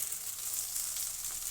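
Semolina (rava) for upma fries in a kadai, giving a quiet, steady hiss and sizzle with no talking.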